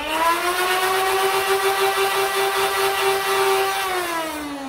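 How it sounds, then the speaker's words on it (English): Nerf Zombie Strike Revoltinator toy blaster revving with its electronic effect: a steady, loud, rising-then-level whining hum with buzzy harmonics lasting several seconds, then winding down at the end, heard alone. "if you rev it again, it does a different sound"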